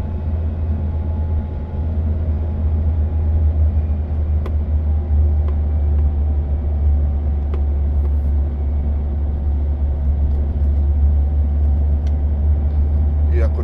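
Continuous heavy low rumble of a bus engine retarder holding the coach back on a long downhill descent, steady and close throughout with faint cabin noise on top.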